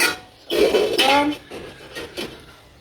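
Metal pot and lid set down on a kitchen stove, giving a few close clanks and rattles of cookware, one sharp knock then fainter clinks, with no talking.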